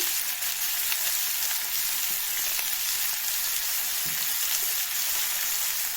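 Spices and salt fry in a pan, a steady close, hissing sizzle that holds evenly throughout with a faint stir or tap now and then and no speech.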